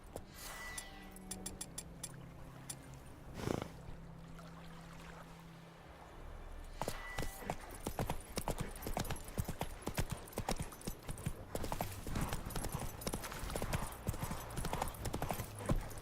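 Horse hooves clip-clop in The Witcher 3 video game, a steady galloping rhythm near and clear, pausing briefly before resuming at a faster pace, with faint game ambience behind.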